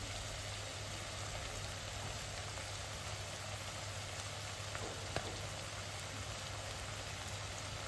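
Mutton curry with chilli powder simmering in a pot, a dense, even bubbling hiss that holds steady throughout with no voices.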